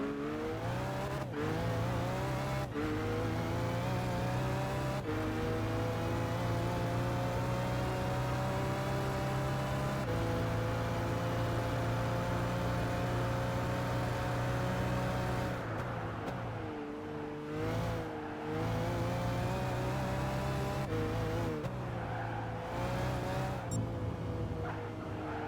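Car engine in Gran Turismo 5 droning steadily at high revs, its pitch rising gradually and dipping at a few gear shifts, a continuous mechanical whine with no talking over it.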